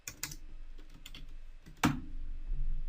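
Transaction code typed on a computer keyboard, a handful of close, crisp key clicks in short bursts with brief pauses, then a louder keystroke near the end, alone without talk.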